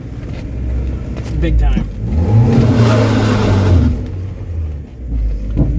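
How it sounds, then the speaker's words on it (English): A salvage Mazda Miata's engine revs up and holds high while the clutch slips under load, a close, loud rising whine that falls away near the end, with people talking over it. "The clutch slips."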